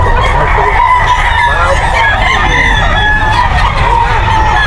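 Roosters crowing at the Bocaue pet market in a continuous, overlapping chorus of crows and clucks with loud, steady crowd noise underneath and faint talk mixed in.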